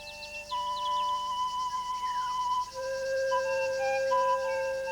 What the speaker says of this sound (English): Bush crickets feed on the reeds and grasses around the pools.